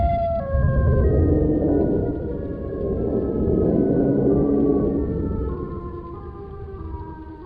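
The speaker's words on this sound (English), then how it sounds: "The sirens wailed at the highest level." Several sirens wail together in long, overlapping rising and falling tones over a heavy low rumble, loud and steady before gradually easing off.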